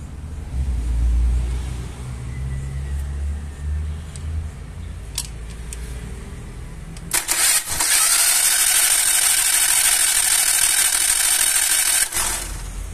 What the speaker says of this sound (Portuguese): E vai rodar o motor aqui